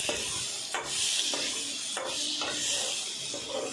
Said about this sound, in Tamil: நல்லா கலந்து விட்டுக்கலாங்க.